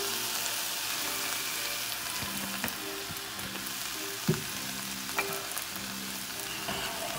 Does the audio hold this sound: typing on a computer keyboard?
no